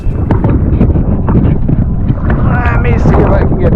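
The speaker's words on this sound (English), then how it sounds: "This wind is actually pretty strong" Strong wind buffets the microphone during stand up paddling on open water, a loud, constant broadband roar with gusty swells throughout and faint voice sounds underneath.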